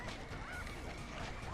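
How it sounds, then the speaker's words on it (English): Roosters in a Sly Cooper and the Thievius Raccoonus minigame let out faint, honking squawks over a dense, noisy game background. "those roosters are gunning for you"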